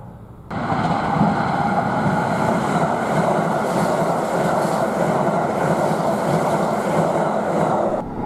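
Steady, loud rumble and rhythmic clatter of a Kintetsu Hinotori limited express train running near Nagoya, heard from the front cab as it passes another train, continuous from start to end.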